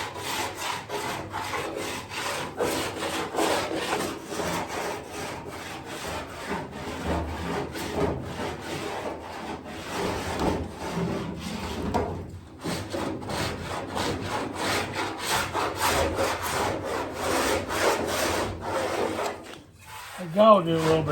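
A cheese grater file rasps high spots of body filler on a 1972 VW Super Beetle, giving steady, rhythmic scraping strokes up close that run almost continuously, with a brief pause midway and a short voice near the end.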